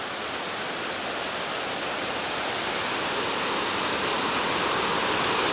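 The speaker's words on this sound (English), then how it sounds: "it is a very nice waterfall right in the middle of the city here" Water pours steadily over a waterfall in a city park in Cleveland, Ohio, a dense, unbroken rushing roar that stays even and close from start to finish with no voices.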